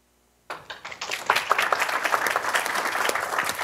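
Classroom audience breaks into applause after a programming lesson on for loops, starting abruptly from silence with a few scattered claps and quickly building into steady, dense clapping from many people.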